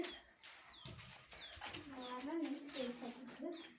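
Several high, thin peeping chirps from young chicks repeat throughout, mixed with close clucking and soft background voices.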